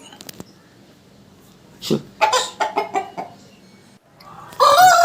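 A nearby ten-month-old rooster gives a quick run of clucks, then bursts into a loud crow after a short quiet pause.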